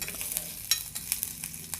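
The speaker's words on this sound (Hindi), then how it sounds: "बस इसे लाल कर लेते हैं अच्छी तरह से चलाते हुए" Ginger stir-fried in a pan until reddish, a steady soft sizzle broken by brief scraping stirs at an even pace, close and fairly quiet with no talk.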